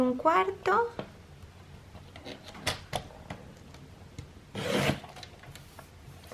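Scissors or a cutter working through a strip of paper for a travel scrapbook album, heard as short close scraping and rasping strokes in bursts, with someone speaking over the start.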